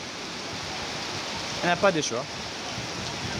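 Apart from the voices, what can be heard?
rain falling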